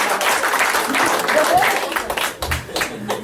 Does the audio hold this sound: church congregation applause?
yes